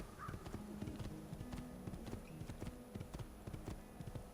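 Steady, rhythmic clip-clop of horse hooves trotting along at an even pace over a constant background hum, fairly quiet and mechanical-sounding, in the video game Assassin's Creed II.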